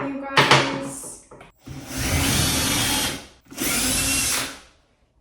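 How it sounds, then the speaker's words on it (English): A power drill bores holes into an apartment wall for a shelf, two sustained loud whirring bursts of a couple of seconds each, preceded by brief handling noise. "Before drilling the other two holes,"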